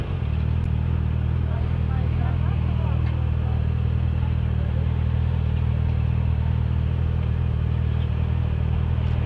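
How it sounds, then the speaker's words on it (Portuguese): Motorcycle engines rumble steadily in stuck, gridlocked traffic. A continuous loud, low drone with wind-like noise runs unbroken throughout. "Moto pra caramba querendo passar"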